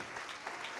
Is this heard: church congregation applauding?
yes